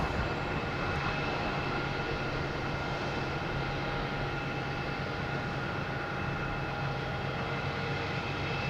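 An airliner climbing away after takeoff at Boston Logan, heard as a soft, steady, distant engine rumble with faint tonal hums, continuous and without voices.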